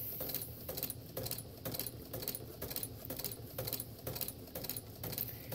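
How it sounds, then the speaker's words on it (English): A sewing machine stitches fabric onto cardboard, its needle clattering in a steady rapid rhythm with regular bursts of mechanical chatter, close and moderately loud throughout. "sewing machines aren't made for pushing cardboard through"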